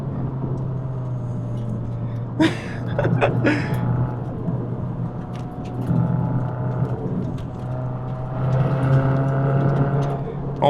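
A Subaru WRX runs fast along a gravel road, its engine droning steadily from inside the cabin while stones clatter and crunch in bursts under the tyres and the revs rise and fall.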